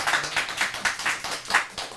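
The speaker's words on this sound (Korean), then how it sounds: "박수를 좀 보내주셔도 괜찮습니다." Clapping from the audience at a Korean high school students' debate awards ceremony, a sparse, loosely rhythmic run of separate hand claps at a moderate distance, with no speech.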